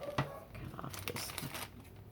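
Tracing paper being cut to trim an edge while making a junk journal bag gives faint, crisp crinkling and snipping, with a few short rustling bursts close by.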